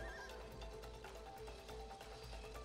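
A horse in the video game It Takes Two whinnies loudly over a steady low rumble, with clip-clop hoofbeats tapping throughout.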